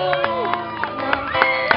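A crowd cheers, whoops and claps for a woman dressed as the Catrina Garbancera at a Santa Ana Catrina costume event, with sharp claps and shouts rising over a busy background of voices and music.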